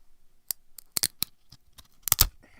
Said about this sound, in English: That's the sound of 90s sports cards.